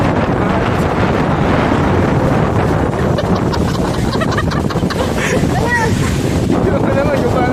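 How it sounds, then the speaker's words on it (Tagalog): Strong seaside wind roars and buffets continuously at close range, a loud, unbroken rushing hiss with gusts that never let up. "So, mahangin lang talaga."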